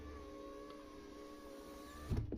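The electric window regulator motor of a VW Touareg hums steadily with a faint whine as it raises the window, then thumps and clunks at the top of travel. Recorded close, with no talking.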